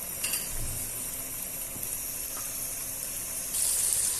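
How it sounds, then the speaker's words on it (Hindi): Chopped tomatoes frying with masala in a karahi for dhaba-style chicken karahi, a soft steady sizzle with faint clinks of a utensil, quiet and continuous, rising slightly near the end. "अब इसको 5 मिनट फ्राई कर लेना है।"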